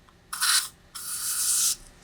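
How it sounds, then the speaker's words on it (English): Cleaner sprayed from a trigger bottle onto a blue microfiber cloth while replacing a Dell OptiPlex 790 motherboard: two close, hissing spray bursts, a short one and then a longer one after a brief pause, with no talking. "So I'm just going to spray onto our blue microfiber cloth here."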